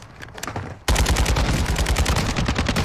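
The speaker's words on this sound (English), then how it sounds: "Let me shoot the guy behind you!" Rapid automatic gunfire from Call of Duty: Modern Warfare erupts loud and close after a quieter opening, a dense continuous burst of shots filling the rest of the moment with no talking.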